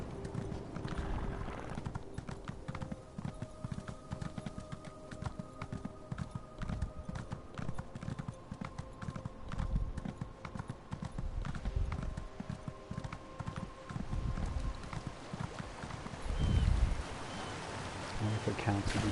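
Horse hooves clip-clop at a steady walking pace on hard ground, moderately close, with outdoor ambience and occasional muffled voices.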